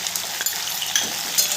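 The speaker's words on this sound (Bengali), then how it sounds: "শিমগুলোকে আমি খুব ভালো করে ভেজে নেব।" Flat beans (sim) stirred and fried in a pan with a pinch of turmeric give a dense, continuous sizzle, broken by brief scraping clicks from the stirring utensil. No one speaks.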